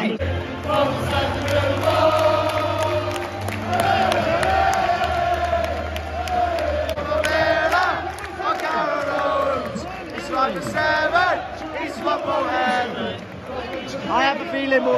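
Aston Villa football fans at an away match against Norwich City chant loudly in unison inside a stadium, a dense, continuous roar of crowd voices with rising and falling shouts throughout.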